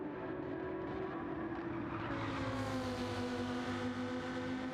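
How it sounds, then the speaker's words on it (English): A Lamborghini race car engine in Gran Turismo 7 drones loudly and steadily at Watkins Glen, its pitch shifting as it revs and passes, with other cars mixed in behind. "Lamborghini sounding good out there"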